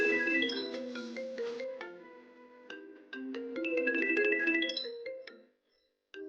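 A mobile phone plays its ringtone for an incoming call in a television drama scene: a clear, melodic electronic tune with stepping notes loops for several seconds, then cuts off abruptly.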